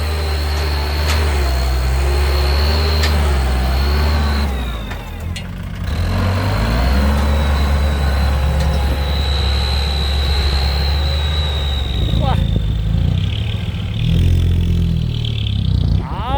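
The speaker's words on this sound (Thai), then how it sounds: "ธุรกิจดินก็ต้องมีรถไถนะครับ หรือว่าแท็กเตอร์" An old Kubota tractor with some 4,500 hours on it pushes soil as its diesel engine drones steadily in a deep, heavy rumble, holding a near, constant loud tone with slight shifts in load.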